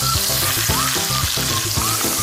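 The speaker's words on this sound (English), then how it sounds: "Sizzle and stir." Steady, loud sizzling of fish frying in a hot pan, with rhythmic bursts of crackle and scraping as it is stirred; no voices.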